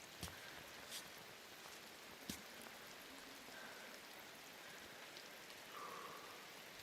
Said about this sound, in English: Especially in the rain.